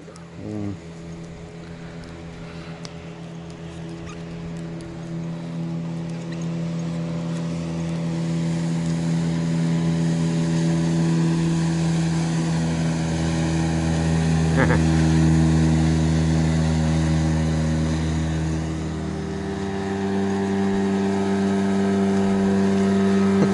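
Motorboat engines drone steadily nearby on a river in the taiga, pitch shifting as they swell and pass, with brief voices faintly underneath.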